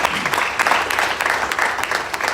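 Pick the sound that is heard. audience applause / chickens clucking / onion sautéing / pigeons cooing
audience applause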